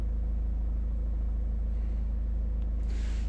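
A Ford 2.2 diesel engine with a faulty DPF vaporizer runs with a steady, low, close rumble at idle throughout.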